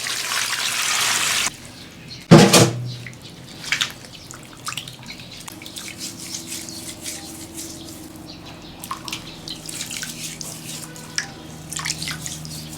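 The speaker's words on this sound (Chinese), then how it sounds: "加水洗呀。" Tap water streams briefly over raw oxtail in a home kitchen, followed by a sharp knock and scattered drips and small splashes as the meat is rinsed, close by and fairly quiet.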